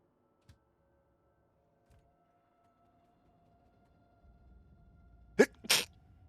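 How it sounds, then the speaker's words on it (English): Two sharp sneezes come one right after the other, loud and close, following several seconds of near silence with only a faint tick and low hum. "Double sneezes. I always tend to sneeze twice."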